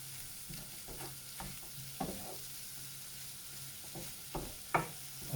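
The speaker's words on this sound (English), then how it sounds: "the moisture of washing this spinach has now fetched all that paprika, garlic and everything off the bottom of the pan" Spinach with paprika and garlic is stirred in a frying pan, a steady low sizzle broken by several scraping stir strokes, close and fairly quiet.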